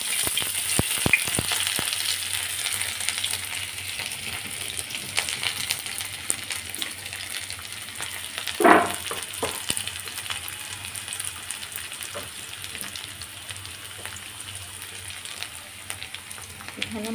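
Young pumpkin with its peel, cooked with dried fish and turmeric, chilli and coriander, frying in a pan with a steady sizzle, occasional stirring scrapes and clinks, and one louder burst of hissing midway.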